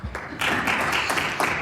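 Applause rising suddenly in a provincial House of Assembly chamber, a dense sustained clapping from many members, loud and steady after a brief quiet start.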